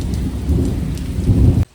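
Thunder rumbles and heavy rain pours during a sudden summer thunderstorm over a house, a loud, steady roar of rainfall with deep swells of thunder, cutting off abruptly at the end.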